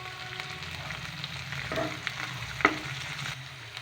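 Curry leaves crackling in hot oil with sliced onion for idli fry, a steady close sizzle with occasional small pops and a light utensil tap, no voices.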